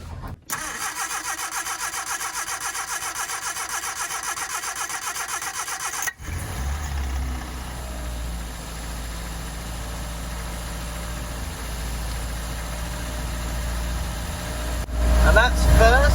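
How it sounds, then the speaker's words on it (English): A Triumph car engine is cranked and fires up, settling into a steady, loud, close idle that runs on with a low rumble. There is a brief abrupt change partway through as the engine catches. "I expect this will be very loud when I try and start the engine"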